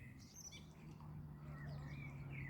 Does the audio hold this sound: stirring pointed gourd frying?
no